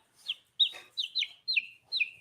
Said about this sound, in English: There's a little Plymouth Rock. So this is a little rooster, this one.